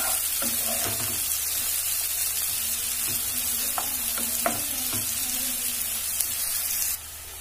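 Sliced onion frying steadily in a pan, a continuous close sizzle and crackle with a few faint clinks from stirring, no talk.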